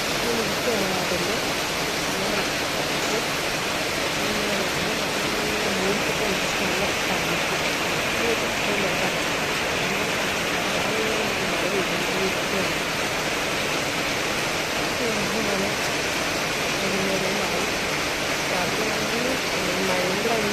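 Heavy monsoon rain pours steadily as a dense, continuous broadband hiss that stays loud and even, with no voices rising above it.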